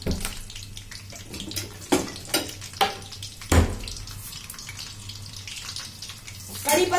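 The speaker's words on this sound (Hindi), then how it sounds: "इसको फ्राई करते हैं मीडियम फ्लेम पे।" Potato-stuffed chillies coated in gram-flour batter fry in oil over a medium flame, giving a steady crackling sizzle with a few louder knocks and clatters from the pan throughout.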